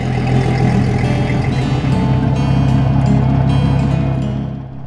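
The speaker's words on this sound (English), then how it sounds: "Now it was time to start the engine and see if all systems were functioning properly." A Yamaha 250 hp four-stroke outboard boat engine runs loud and close, a steady throbbing drone that holds throughout before easing slightly at the end.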